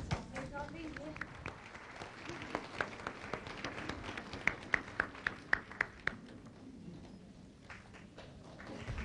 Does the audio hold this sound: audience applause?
yes